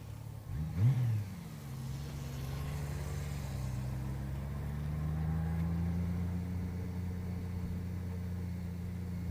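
A Honda CBR 600RR sport motorcycle engine revs up through first and second gear. The whine rises briefly and then settles into a steady, moderately distant drone that swells slightly midway.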